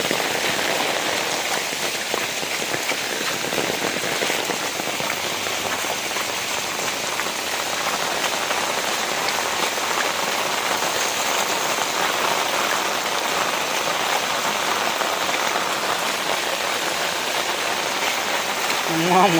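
Heavy rain pours steadily onto a flooded residential street, a dense, continuous hiss of drops striking water and pavement that stays loud and even throughout, with no other sound standing out.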